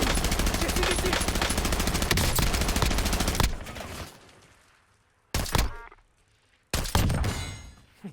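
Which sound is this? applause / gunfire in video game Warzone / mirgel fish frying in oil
gunfire in video game Warzone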